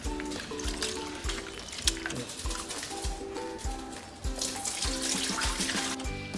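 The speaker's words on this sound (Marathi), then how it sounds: "आपण पुन्हा एकदा तांदूळ धुवून त्यात पाणी टाकून ठेवणार आहोत." Water runs and splashes as soaked rice is washed again in a kitchen, a steady tap-like flow with rhythmic sloshing pulses throughout, close and fairly loud.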